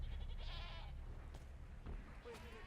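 Sheep bleat in a dramatic fantasy TV series scene, several wavering cries in the first second followed by a few shorter bleats, heard under music and ambient sound with no clear speech.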